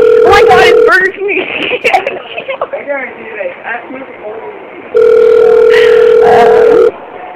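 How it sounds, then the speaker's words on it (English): A telephone ringback tone sounds in two long steady bursts at the start and later, loud and close, with people talking over a phone line in between. "My phone rang and I picked it up and it was like ringing."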